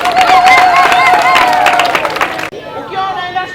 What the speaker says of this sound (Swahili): Jipigieni makofi jeshi la polisi